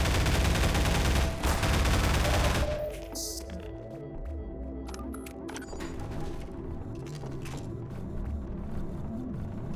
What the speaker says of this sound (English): Let's go with our special rifle,